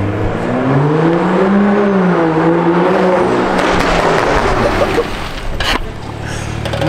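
A car launching hard, its engine note climbing in pitch through the first seconds, then the roar fading into rushing noise with a sharp bang near the end.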